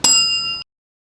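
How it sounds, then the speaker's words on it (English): A small bell on top of a Clase Azul tequila bottle gives a single bright ding that rings clearly for about half a second, then stops abruptly as it is damped. "the Clase Azul bottle actually has a bell at the top."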